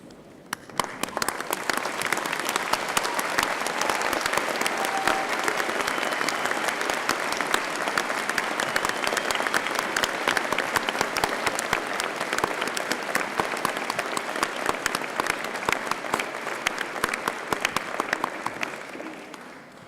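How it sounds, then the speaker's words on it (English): Sustained, dense applause from a large graduation ceremony audience at Birmingham City University, steady and loud for the full stretch without a break, with no speech over it. "join me in giving them a well-deserved round of applause"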